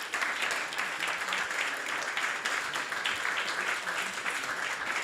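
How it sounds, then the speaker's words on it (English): A memorial gathering's audience applauds steadily and densely for the whole stretch, a continuous wash of many hands clapping with no break and no voices on top. "Please give them a big round of applause."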